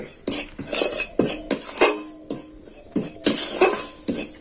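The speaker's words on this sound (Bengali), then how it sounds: "এটাকে আমি নেড়ে চেড়ে ভেজে নেব" Semolina being stirred and dry-roasted with ghee in a pan, heard as close, repeated scraping and clinking of a spoon against the metal in an irregular rhythm, with no talk.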